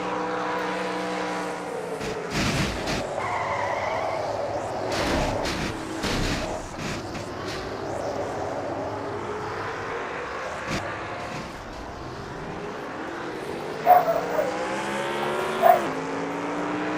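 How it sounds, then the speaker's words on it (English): A loud race truck engine, heard onboard during a truck series race at Food City 200, roars steadily, pitch rising and falling through gear changes, with a few sharp clanks and bangs near the end. "On board Jessica Shelton's truck."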